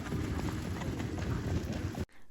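Horses run on a horse track with a soft, steady rush of hoofbeats and wind that stays level for about two seconds and then cuts off abruptly.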